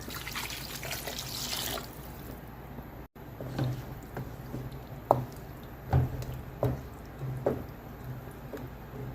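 Water from a rinsed mixer jar, about 1.5 cups, pours in a rush into a pot of curry at first, then slows to sloshing and a few scattered splashes and drips.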